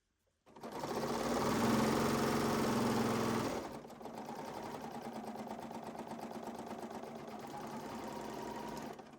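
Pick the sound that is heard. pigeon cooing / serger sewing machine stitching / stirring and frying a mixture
serger sewing machine stitching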